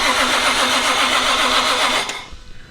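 A JZ engine swapped into a car cranking over on the starter, a loud, steady whirring churn close by that cuts off abruptly near the end, no speech.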